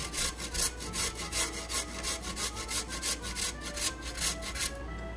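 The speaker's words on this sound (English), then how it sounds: "So now we're shredding the beets and the carrots." Beets and carrots shredded on a hand grater for Ukrainian borscht, a close, loud run of rhythmic rasping strokes, steady and even, with no talking.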